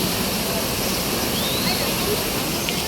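Continuous rushing of flowing river water, a steady broadband roar with no breaks, fairly loud and close.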